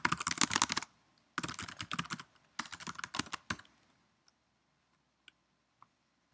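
Someone types code on a computer keyboard while writing a debugger alert, with three quick bursts of close, crisp keystrokes followed by a few isolated clicks in near silence.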